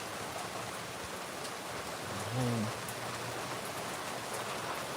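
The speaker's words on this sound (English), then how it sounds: "It is pouring right now." Heavy rain pouring outdoors, a steady dense hiss filling the background at low level, with a brief low hum and soft voice-like sounds partway through.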